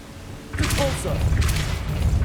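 Depulso spell cast in the PC version of Hogwarts Legacy: a loud, sustained forceful burst with a rumbling low end kicks in about half a second in and carries to the end, over a quieter ambient bed.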